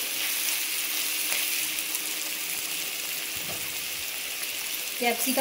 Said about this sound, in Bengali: দিয়ে আবারও নাড়াচাড়া করে ভেজে নেব